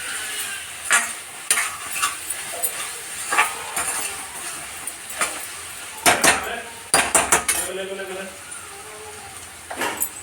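Spoon stirring a beans dish in a metal pan, producing repeated scraping clinks and knocks at uneven intervals, close and fairly loud over a quiet background.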